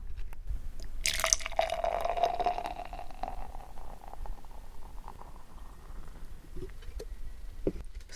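Beer poured into a glass: a bright fizzing rush of liquid at first, then a softer settling hiss and a few faint drips and clinks near the end, with no talk.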